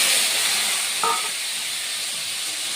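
Potatoes frying in hot oil with nigella seeds for jhinge aloo posto, a steady close hiss of sizzling throughout with a brief clink near the middle.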